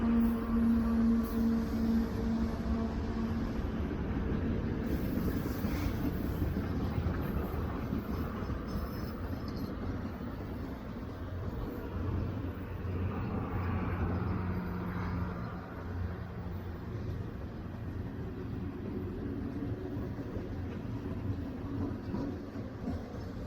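A Union Pacific heritage special hauling steam locomotives 3985 and others at or below 25 mph, its steady rolling rumble and faint wheel clatter continuous and fairly distant throughout.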